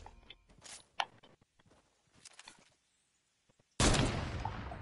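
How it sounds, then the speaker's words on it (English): Gunfire in Fortnite's sniper shootout mode: several short sharp cracks and footsteps early on, a brief near-silence, then a loud burst of shots with a long rolling tail. "Hey, quit shooting at me."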